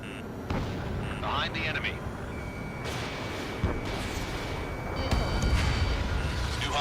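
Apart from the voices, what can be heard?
aircraft weapons firing in the video game Ace Combat 7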